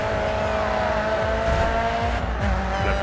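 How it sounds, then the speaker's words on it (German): Race car engine in the driving game GRID 2, a loud, steady roar with rising and falling revs and sweeping gear changes, tire squeal mixed in, continuous throughout with no talk. "Boah, der Wagen hört sich geil an, oder?"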